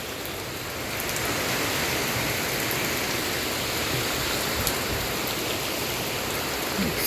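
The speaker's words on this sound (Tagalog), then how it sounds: "mas lumalakas po ngayon ang hangin at ulan." Heavy rain and strong wind of a super typhoon lash down in a dense, continuous roar of drops on surfaces and gusting air, loud and unbroken from start to finish with no voices.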